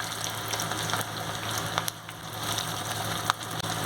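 Chicken and baby corn pakoda batter sizzles in hot oil with a continuous bright crackling hiss, broken by a few sharper pops and spatters.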